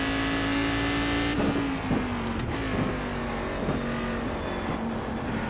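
Race car engine at Watkins Glen in the iRacing video game, a steady droning hum holding a constant pitch throughout, with faint ticks and bumps over it as the car rolls downhill; no one speaks.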